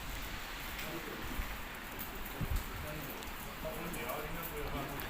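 Steady rain falls across a construction site in Spain, a dense, even hiss of drops with a few louder splashes on nearby surfaces.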